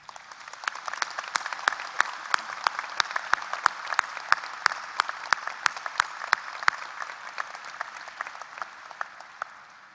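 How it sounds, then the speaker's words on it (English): Graduates at a university commencement ceremony applaud their faculty in a sustained round of clapping, with distinct sharp claps standing out over a dense, steady patter that thins slightly toward the end. "Graduates, please join me in a round of applause and recognition for the work and contributions of our faculty"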